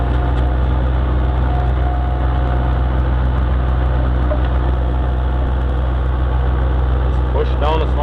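Skid steer loader setting a T-post, its diesel engine running at a steady low rumble close by throughout, with a short clanking scrape near the end.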